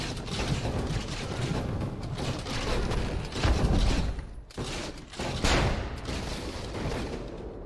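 Dense, continuous gunfire from the video game Assassin's Creed Revelations, loud mechanical rattling volleys and clanks that barely pause, with a brief dip near the middle before resuming.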